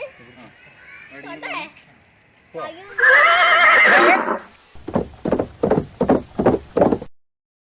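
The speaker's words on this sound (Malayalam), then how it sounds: "ഇത് നല്ലൊരു അടിപൊളി കുതിരയാണ്" A horse whinnies loudly for about a second during a riding outing, preceded by people talking and followed by a run of rhythmic snorts or hoof-like bursts.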